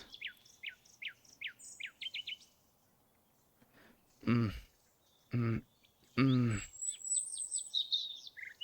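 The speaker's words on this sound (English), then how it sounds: "I can hear the chirping of birds when I awake" Morning birdsong: a series of short, evenly spaced chirps at the start, then further chirping and high twittering near the end. Three loud, separate low-pitched sounds break in partway through.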